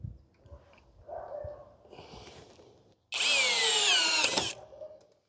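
A Hanabi 16V cordless screwdriver drives a screw into pallet wood: quiet handling noises and small clicks, then a loud, close whine of the motor rising in pitch for about a second and a half before cutting off.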